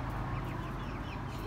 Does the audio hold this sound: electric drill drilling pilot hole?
no